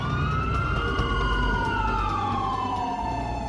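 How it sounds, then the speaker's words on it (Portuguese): An ambulance siren wails loudly and continuously, its pitch sweeping slowly downward as it carries the patient away from the Beverly Hilton hotel, with road rumble beneath and no talking. "Whitney, Bob e Christina teve um colapso e foi filmada sendo tirada do hotel Beverly Hilton em uma ambulância."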